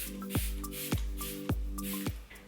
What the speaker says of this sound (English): I'm actually going to go ahead and spray again with the primer water that we used earlier